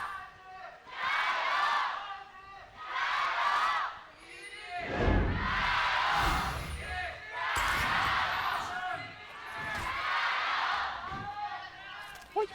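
A large esports arena crowd at a League of Legends match between Edward Gaming and Invictus Gaming chants in loud rhythmic waves, each burst of voices swelling and fading, with thumping impacts partway through and no talk over it.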